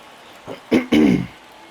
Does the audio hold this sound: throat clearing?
yes